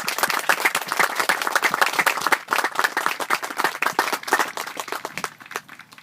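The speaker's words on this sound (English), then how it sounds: "please give me a great round of applause for the great soldiers" Audience at a military change of command ceremony claps steadily, a dense burst of applause that gradually thins into scattered claps toward the end.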